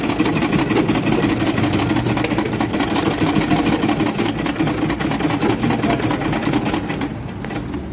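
An electric sewing machine stitches a half-inch seam on underwear, running as a continuous, close motorized hum and rattle at steady speed before easing off near the end.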